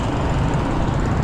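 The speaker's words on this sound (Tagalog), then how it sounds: "mga motor, mga sasakyan dito sa Tuguegarao City" Dense rush-hour street traffic of motorcycles and cars in Tuguegarao City, a steady, continuous broadband rumble and hiss of many engines close by, with no distinct pass-bys standing out.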